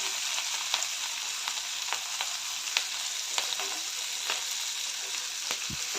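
Ginger and garlic sizzling in hot oil with onion and tomato for a hotel-style mixed vegetable curry, a steady bright frying hiss with scattered crackles and faint stirring clicks, close and unbroken.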